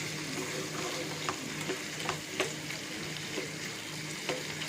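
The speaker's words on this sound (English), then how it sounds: "And we give it a light stir so that the flavor enters the pasta as well." Penne pasta being lightly stirred in a sizzling sauce in a pan, with a steady frying hiss and soft, spaced scrapes of the spoon, close and without talk.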